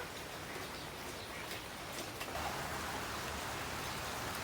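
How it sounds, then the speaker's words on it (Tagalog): Heavy rain falls steadily on a farmyard where pigs, ducks and chickens are kept, a soft, even hiss with no voices and no clear individual drops. "Lakas ng ulan."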